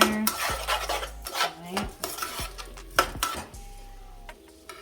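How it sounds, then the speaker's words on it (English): A utensil stirs and scrapes seasoned roucou vegetable rice in a metal pot, giving repeated clanks and scrapes in an irregular rhythm, close and fairly loud, with a brief spoken word. "Mix everything in. Let those seasonings coat everything."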